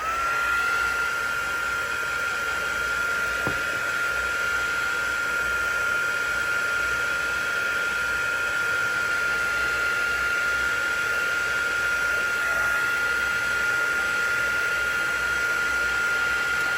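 A heat tool or dryer runs steadily throughout, drying watercolor ink on paper for a stamped prairie grass card; a continuous close, even whooshing hiss with a high whine, no voices.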